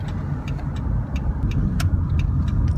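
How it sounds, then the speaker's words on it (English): A big, slow truck rolls past on the road, its low engine rumble steady and fairly close, with a few faint clicks over the top and no talking. "This big ass truck is going so slow."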